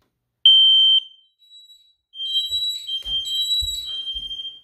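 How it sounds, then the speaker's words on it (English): A Honeywell smoke alarm buzzer sounds during a test: a short piercing electronic beep, a brief pause, then a loud sustained shrill tone with faint low thuds underneath. "To test your Honeywell smoke alarm, simply press the middle until you hear the buzzer."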